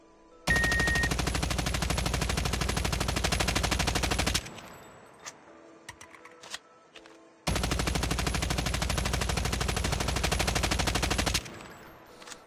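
Automatic gunfire in a first-person shooter during recoil-control training, heard as two long sustained bursts of several seconds each, loud and close, separated by a quieter pause, with no speech.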